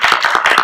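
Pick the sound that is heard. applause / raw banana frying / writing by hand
applause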